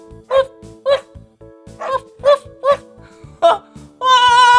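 A voice imitates a little dog with a quick series of short, bright woofs over steady background music, finishing in a louder tonal burst.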